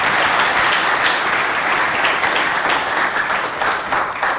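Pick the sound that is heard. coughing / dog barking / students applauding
students applauding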